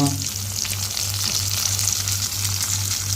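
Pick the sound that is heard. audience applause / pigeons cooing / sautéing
sautéing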